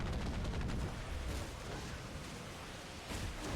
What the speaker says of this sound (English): Captain, look! Mortars!